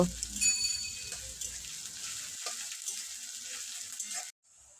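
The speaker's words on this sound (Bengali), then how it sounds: "আমি এখানে সামান্য একটু ক্যাপসিকাম টুকরো টুকরো করে কেটে নিয়েছি আবারও কিছুক্ষণ ভেজে নেব" Chopped capsicum and fish roe sizzle steadily in a hot pan, a close, bright hiss with faint stirring clinks that runs for about four seconds, then cuts off abruptly.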